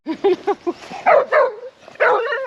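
A reactive dog barks in a quick series of sharp yips and barks during a training lesson, close by and loud, with a short pause before a final longer bark.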